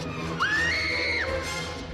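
A girl's high-pitched scream from the film Jurassic Park rises sharply, holds for about a second, then drops away, a single clear shriek over a low background of film sound.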